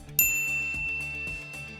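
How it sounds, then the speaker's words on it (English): A bright notification bell ding rings out once, clear and close, with a ringing tone that slowly fades under quiet background music. "ring the bell to be notified about our latest videos"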